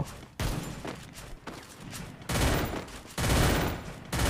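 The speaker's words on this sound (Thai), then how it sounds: "ยิงยิงยิงยิงยิง" Gunfire in the Free Fire video game rattles in rapid automatic bursts, loud and close, with short gaps between the volleys.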